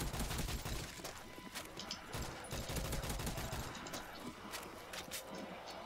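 Guns firing in a zombie map set in an abandoned school in Call of Duty: World at War, a busy run of sharp repeated shots with thumping low hits, fairly quiet overall and continuous throughout.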